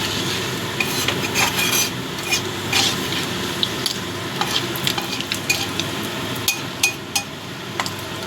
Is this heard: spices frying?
yes